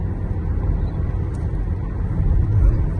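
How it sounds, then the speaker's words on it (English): Hyundai Tucson 1.6 turbo petrol engine pulling uphill while towing a caravan, heard from inside the cabin as a steady low drone with a slight rise in tone, alongside road and wind rumble. "The engine, yes, you hear the difference in tone, but it's not that overbearing."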